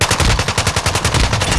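Rapid automatic gunfire in Modern Warfare 2 during a Kill Confirmed match at Breenbergh Hotel, a loud, continuous stream of closely spaced shots with a steady rhythm and no talking over it.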